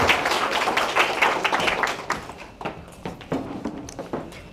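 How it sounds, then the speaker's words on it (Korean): An audience at a Korean happiness-society forum applauds to welcome a lecturer onto the stage. The clapping is dense and loud at first, then thins into scattered, fading claps over a few seconds. "여러분 박수로 맞으십시오"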